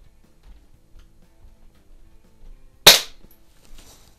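A single sharp gunshot from a Browning Buckmark pistol fitted with a red dot sight, close and loud with a short ringing decay, following near silence.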